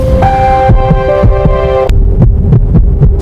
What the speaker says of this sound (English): Muscle tissue makes the heart beat, while nerve tissue controls its rhythm.